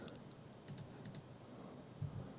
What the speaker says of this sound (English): Press the B on the keyboard and select what you wanna delete it.